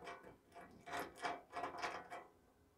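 A bolt and washer fitted into a fuel return bung during a fuel injection conversion, giving a few short metallic ratcheting and threading bursts in quick succession, close and faint, no voices.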